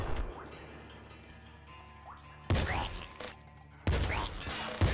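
Bursts of rapid gunfire from the roguelike video game Nuclear Throne erupt in two loud volleys after a quieter stretch of game ambience, with a voice speaking faintly beneath.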